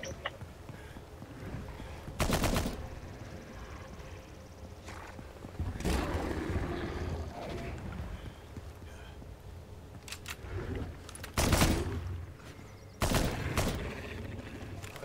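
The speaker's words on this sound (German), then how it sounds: "Ich höre die Schüsse, ey, die nerven mich." Gunfire in the survival game Nether: several separate sharp, loud shot bursts ring out at irregular intervals over a low, steady ambient bed, with no clear talking.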